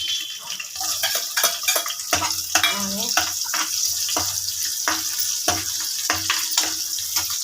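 Cumin and green chillies fry in oil in a pan with a steady broadband sizzle, broken by frequent sharp scrapes and clinks of a spoon stirring against the metal; no talk.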